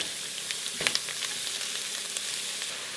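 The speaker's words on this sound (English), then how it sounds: "we're going to fry that off until the onion is slightly transparent" Finely diced onion, ginger and garlic fry in a pot for a curry, giving a close, steady sizzle with a few sharp crackles and light stirring clicks, no one speaking.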